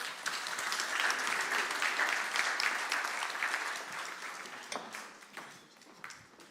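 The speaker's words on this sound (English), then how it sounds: "Please give them a round of applause." An audience at a poetry gala applauds for a string group, dense and continuous clapping that gradually thins and softens toward the end.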